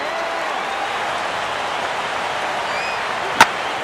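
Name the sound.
stadium crowd cheering in baseball video game MLB The Show 15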